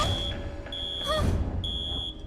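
An electronic alarm sounds in repeated high steady tones, a sustained beeping note that cuts out briefly and returns, ringing loud and close over a faint background with no talking.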